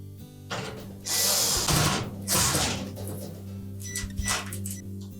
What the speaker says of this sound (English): Reattach all 4 of those retaining screws.